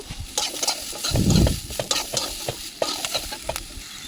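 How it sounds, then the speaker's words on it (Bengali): Potatoes frying together with bitter gourd in oil in a pan, a continuous sizzle broken by repeated stirring scrapes and clinks, with one heavier burst of stirring in the middle and no voices. "এবার ওর মধ্যে আলু দিয়ে একটু ভেজে নেব।"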